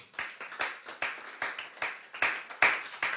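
A church congregation claps rhythmically in praise, a steady run of about a dozen crisp, evenly spaced hand claps, with no talking over them.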